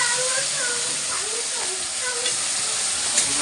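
Spice paste frying in hot oil in a wok, a steady loud sizzle and hiss with faint stirring, while a voice talks over it.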